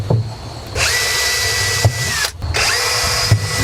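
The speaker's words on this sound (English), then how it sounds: "you just put screws through the top of the barrel into the piece" A power drill drives screws through the top of a barrel into an 18-inch wooden piece while building a catch box, with close, loud whining bursts separated by brief pauses and clicks.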